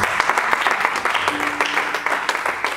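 A church congregation claps in praise of the Lord, a dense, steady applause of many hands close by, with a brief voice or sustained tone briefly mixed in.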